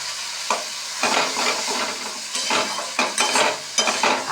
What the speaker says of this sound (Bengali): পেঁয়াজ, আদা, রসুন, কাঁচা লঙ্কা, টমেটো পেস্ট এই আলুর সাথে দিয়ে দিচ্ছি। এবার এটাকে ভাজা ভাজা করে তারপর ডুমুরটা দিয়ে দিচ্ছি।